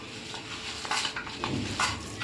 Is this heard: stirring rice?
yes